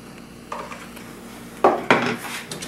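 Flour and melted butter being mixed in a bowl, with a few utensil scrapes and clinks against the dish, two louder strokes near the end, close and fairly quiet.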